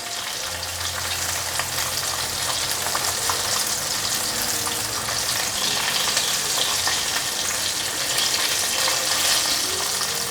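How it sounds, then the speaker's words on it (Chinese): Vegan drumsticks made from king oyster mushroom deep-frying in plenty of hot oil, a dense continuous bubbling sizzle heard up close and loud throughout, with no voices. "再让它炸成2面焦黄色，就可以取出了。"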